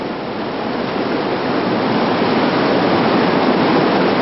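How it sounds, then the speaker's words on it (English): Whitewater rapids on the Arkansas River roar continuously while a raft plunges through big waves, a loud, dense rush of churning water that steadily swells with no voices over it. "Going through a bunch of big waves."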